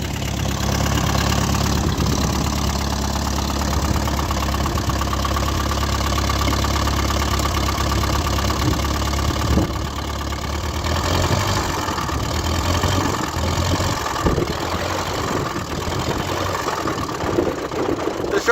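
A Case VAC tractor idles steadily in a continuous, fairly loud low rumble with a slight knock that holds for about eighteen seconds, and no one talks over it.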